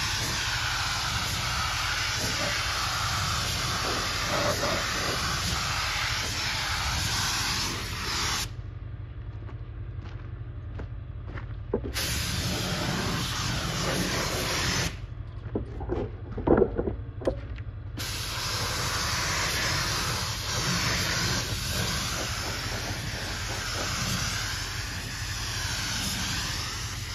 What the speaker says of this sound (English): I'm gonna spray the primer until I run out